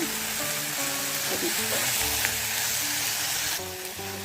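Coriander seeds, pepper, cinnamon, cloves and cashews fry in a pan for paneer masala gravy, giving a loud, continuous sizzle with occasional stirring, set against a melodic musical tune.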